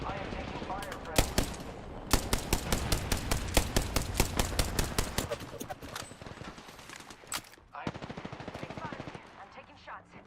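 Rapid, sharp gunshots and machine-gun bursts crack from the first-person shooter game Nightmare Reaper. Loud, closely spaced shots come in volleys, then thin out into scattered blasts near the end.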